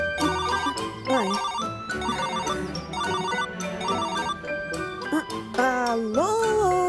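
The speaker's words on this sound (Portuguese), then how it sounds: "Eu vou ligar pro guarda LB." A telephone rings while a call is placed in a children's dinosaur cartoon: a bright, melodic electronic ringtone repeats its short phrase several times, loud and close, over light background sound.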